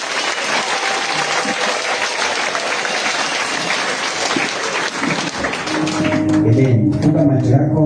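A church congregation claps together for Jesus, loud, steady and close-up for most of the stretch, then the clapping thins and a voice and other sounds take over near the end.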